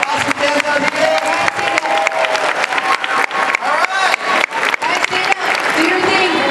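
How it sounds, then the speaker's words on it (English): Fans at a My Little Pony: Friendship is Magic convention panel burst into sustained, loud applause with cheers, dense hand claps rolling continuously while voices shout and call out over the clapping. "Can we give one round of applause to our awesome fans out here?"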